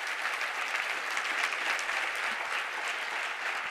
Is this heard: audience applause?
yes